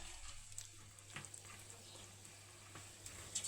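Cabbage pakoda batter fries in hot oil with a soft, steady sizzling hiss that stays faint and even throughout, with no voices.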